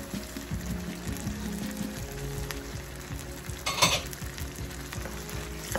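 Fresh tomato hits simmering oxtail in a pot, giving a continuous loud sizzle and bubbling with clattering stirring, plus one brighter burst of spitting midway through.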